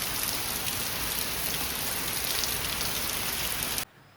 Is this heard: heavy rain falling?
yes